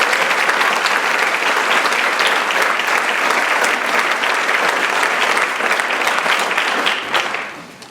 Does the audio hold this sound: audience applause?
yes